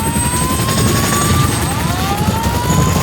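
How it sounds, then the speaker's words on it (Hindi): An Indian Air Force CH-47F Chinook heavy-lift helicopter roars close and loud, with a dense rotor and engine drone and a faint whining tone rising through it. "Meet the muscle machine of Indian Air Force CH-47 FI Chinook."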